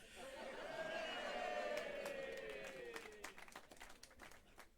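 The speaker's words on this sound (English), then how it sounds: "Thanks for clapping" An audience claps at a stand-up comedy gig at a Birmingham Glee club, a dense, sustained wash of applause that gradually thins with a few scattered claps trailing off toward the end.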